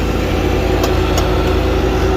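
A tractor engine runs steadily near a sand-extraction site, a dense, continuous low rumble with no pauses and two faint higher clicks partway through.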